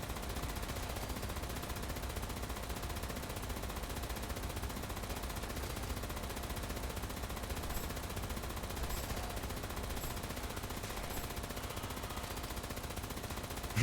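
Sustained rapid automatic gunfire from a turret in a video game, a dense unbroken stream of shots at steady loudness throughout, with no talk.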